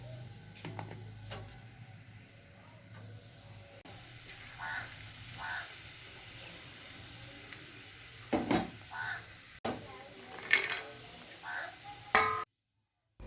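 Flattened rice being stirred in a pan for chira pulao, giving soft scraping and light sizzling at a steady level, with a few sharper clinks of the spoon near the end before it cuts to silence.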